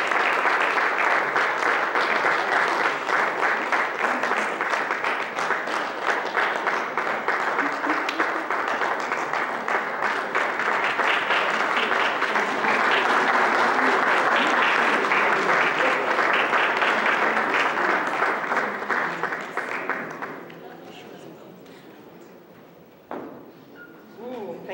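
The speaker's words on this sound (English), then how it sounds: "please, with a round of applause" A conference audience at a live-streamed event gives a long, loud round of applause for a speaker, a dense, sustained wash of clapping that holds steady for about twenty seconds before fading, with faint voices under it.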